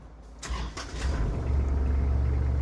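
A Kubota KL3450 compact tractor engine with 1310 operating hours cranks with a few quick bursts, then catches and settles into a steady, loud low rumble of idling close by.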